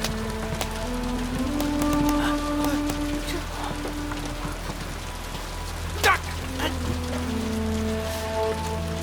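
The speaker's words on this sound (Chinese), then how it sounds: "天上下雨了！" Rain falls in a steady, dense patter over an open sea setting, loud and continuous, mixed with music and a few brief voices and effects.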